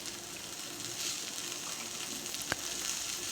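Green chilies, ginger and garlic for a coriander thuvail chutney roast in a pan, giving a steady, close, crackling sizzle throughout with one sharp pop near the end and no voices.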